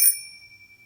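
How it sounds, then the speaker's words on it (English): A single bicycle bell ring, bright and metallic, struck once and left to fade cleanly over under a second with no other sound around it. "I don't think we need to ring the bell except when I say Cycle Channel"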